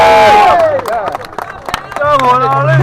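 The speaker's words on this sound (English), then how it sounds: "Now everybody get a round of applause for Elaine," Crowd cheering and clapping at the Unite the Clans rally at Holyrood in Scotland, loud shouts and sung whoops over scattered sharp claps, close and energetic throughout.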